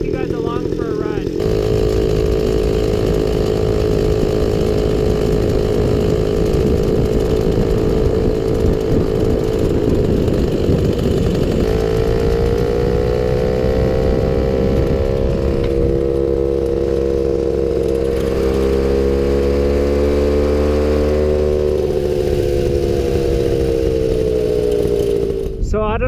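Chainsaw-engine pocket bike running steadily during a ride, its buzzy two-stroke drone holding loud and close throughout with pitch rising and falling as the throttle changes, plus wind and road rumble.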